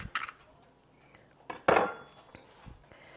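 A spoon stirs cinnamon and sugar in a small half-cup container, giving a few brief, light metallic clinks and scrapes with quiet gaps between them.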